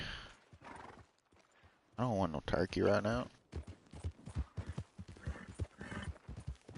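A horse gives a loud whinny midway through, with clip-clopping hooves around it, while people talk over much of it.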